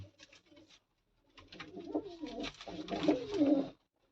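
Soft, throaty cooing of a female Shakhi pigeon, a few low bubbling calls close by, growing fuller toward the end before stopping.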